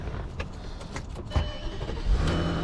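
A sun-damaged car at a Florida auto auction cranks and fires up, with two short, loud bursts of engine noise close by after a brief stretch of clicking and rustling.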